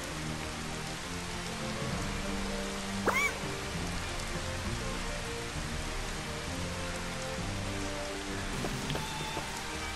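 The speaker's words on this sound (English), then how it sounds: "You know what? I don't like the rain." Steady rain falls in the video game Final Fantasy XV, a dense, even hiss of drops running unbroken from start to finish, with a single faint high chirp-like sound briefly rising near the middle.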